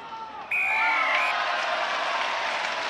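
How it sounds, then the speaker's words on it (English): Rugby crowd in Treviso roaring as the home side scores a try, a sudden swell of cheering and applause with a sharp whistle at the start, sustained loudly from mid-distance. "the biggest cheer of the afternoon so far as Treviso get on the scoreboard"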